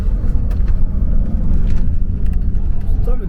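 An electric bus drives along the road out of Leh, giving a continuous low rumble of tyres and motion close by, with faint talk under it.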